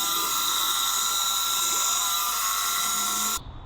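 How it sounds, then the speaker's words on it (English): A battery-powered HLA 66 hedge trimmer runs at full speed with a loud, steady high-pitched whine and motor hum, close up, then cuts off abruptly near the end. "the HLA 66, which is the battery hedge trimmer."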